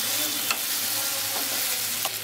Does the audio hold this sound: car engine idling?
no